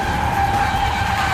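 A Porsche Taycan electric car does a burnout, its tires skidding in a loud, sustained squeal with a steady high whine above a rumbling roar, close by and unbroken throughout.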